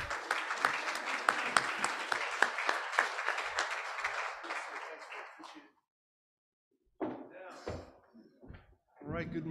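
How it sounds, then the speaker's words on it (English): Audience applause at an FAA Alaska region gathering, dense clapping lasting about five seconds before fading out, followed by a pause and then someone speaking to the room. "So a round of applause,"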